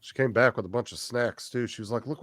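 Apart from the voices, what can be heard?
No everyday noises stand out.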